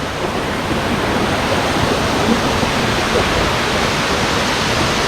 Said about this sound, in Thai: น้ำตกลับ